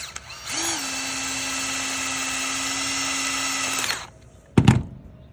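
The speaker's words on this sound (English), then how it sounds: "You'll end up putting one of these screws kind of right between these two" A power drill driving a screw into the seam of a roll-up door, a steady high whine for about three seconds that stops, followed by a brief loud metallic clatter.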